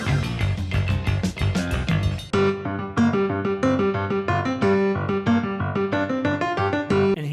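Instrumental passage from a song in 7/8 time, with dense band playing in an uneven, repeating rhythmic figure, full and steady with no voices.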